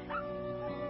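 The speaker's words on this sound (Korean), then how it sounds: "소년이 가게 안으로 들어가자 강아지 한 마리가 꼬리를 치며 달려나왔습니다." A puppy gives a short yip or bark near the start, followed by softer whimpering sounds, close by and alone against a steady background hum.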